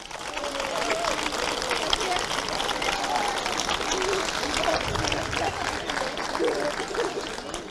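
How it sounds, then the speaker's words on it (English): A crowd applauds the match officials at an All Ireland club camogie final, steady dense clapping filling the whole stretch, with crowd murmur and some talk mixed in. "can I ask for a round of applause for them too?"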